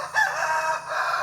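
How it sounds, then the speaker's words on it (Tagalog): A farm rooster crows once in the morning on a rural hillside. The crow is clear and moderately close, and no one speaks. "Gipukaw na punta sa to ang mga manok."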